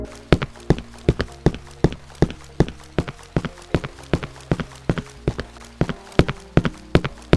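Footsteps of the player character in the horror video game Cry of Fear, a steady, fairly quick walking rhythm of sharp, clear steps over a low ambient drone, with no talking.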